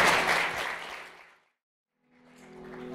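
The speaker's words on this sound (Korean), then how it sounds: "이렇게 아름다운 순간 내빈 여러분들의 뜨거운 박수가 필요할 겁니다." Wedding guests applaud at a hotel ceremony during the ring exchange, a dense burst of clapping that fades to silence, then resumes more softly alongside a low hum.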